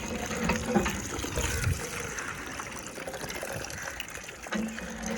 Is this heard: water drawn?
yes